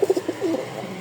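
A pair of orange Rajshahi Giribaz pigeons coos in a few soft, rolling calls close by, with faint room noise and no talking.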